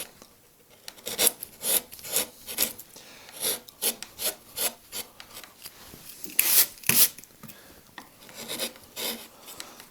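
Wood carving tool making repeated slicing cuts into a wooden leaf carving, a close series of short, crisp scraping strokes in an uneven rhythm with brief pauses between them.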